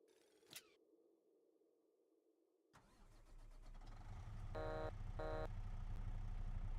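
A truck in Farming Simulator 25 sits silent after a brief click, then its engine cranks and starts, settling into a steady low rumbling idle that grows louder, with a couple of short tonal beeps.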